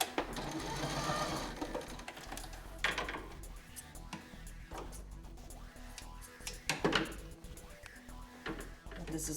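A sewing machine stitches the final seam of a fabric checkbook cover, with a rapid mechanical whir that starts and stops in bursts, close and clear. Someone talks over it at times.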